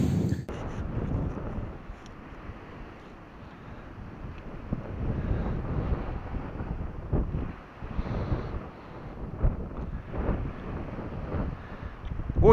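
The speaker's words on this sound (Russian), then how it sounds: "Ох и ветер, и микрофон не взял." Strong wind on a beach buffets an open microphone, producing a low, gusty rumble that swells and fades continuously throughout.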